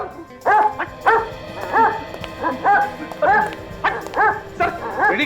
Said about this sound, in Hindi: मतलब यह कि गवाह एक कुत्ता है।